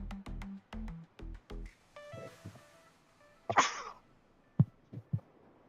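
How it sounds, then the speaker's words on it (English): A single sharp sneeze bursts out midway, followed by a few soft clicks and thumps, after a stretch of short electronic tones. "Oh, I'm gonna sneeze."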